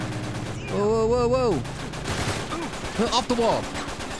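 Gunfire in the video game Uncharted 3: a burst of shots sits under loud, excited talk from players, with more scattered shots near the end.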